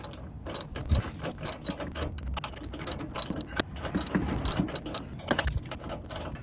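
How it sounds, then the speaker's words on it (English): Wrench tightening the nut on a custom sway bar end link on an overland vehicle, with the stud held by a 19 mm wrench: a steady run of small clicking, ratcheting ticks, close by and moderately loud, with no talk. "One thing you may need to do while you're tightening these up is support it with the 19 millimeter as you're tightening it"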